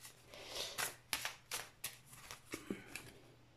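Tarot cards are handled and drawn from a deck, giving a steady run of crisp papery flicks and slides, close by and moderately loud, with no talk.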